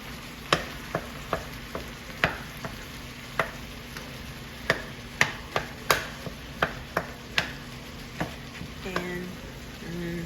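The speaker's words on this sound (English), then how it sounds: "I'm gonna chop my meat up." Meat chopped with a utensil as it cooks in a frying pan for chalupas: a steady sizzle runs underneath while sharp, irregular taps and scrapes strike the pan every second or so, close and clear.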